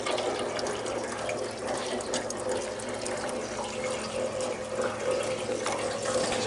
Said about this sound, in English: Got water all in the pan now.